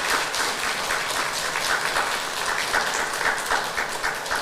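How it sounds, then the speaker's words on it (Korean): Church congregation at a Sunday morning Methodist service claps in encouragement for an elder's recovery, a dense, even wash of applause from many hands filling the room throughout. "여러분들 다 함께 격려 박수하시기"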